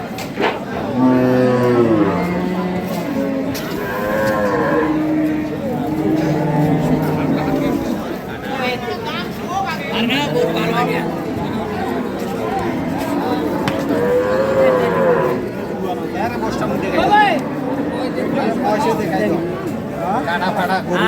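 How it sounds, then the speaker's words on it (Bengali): Cows, including Sahiwal, Sindhi and local dairy breeds with calves, moo repeatedly at the busy rural Ambari cattle market in Bangladesh, several long lowing calls near and far amid steady crowd chatter and traders talking. "আরে গরু"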